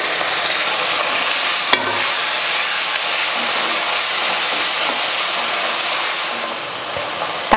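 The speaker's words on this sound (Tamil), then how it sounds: "வெங்காயம் இந்த அளவுக்கு வதங்கினதுக்கப்புறம் தக்காளி சேர்த்துடலாம்." Onion and tomato sauté loudly in an oil-filled pan with curry leaves for an egg pepper curry, a constant close sizzle broken by a couple of sharp utensil clicks.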